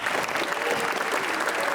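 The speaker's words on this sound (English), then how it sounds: "a round of applause for them tonight and all of their support" Sustained applause from an audience at a high school winter concert, dense and steady clapping filling the room at close range for the whole stretch, with no voices standing out.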